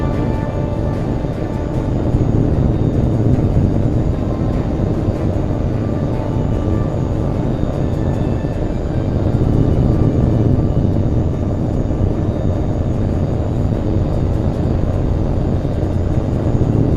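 A jet aircraft takes off in the video game H.A.W.X. 2, a steady, loud, broad engine roar that fills the whole stretch without pause or talk.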